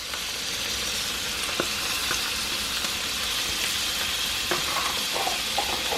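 Snapper frying in a pan of melted butter with garlic gives a steady, fairly close sizzle with light crackles and a few soft utensil taps, and no voices.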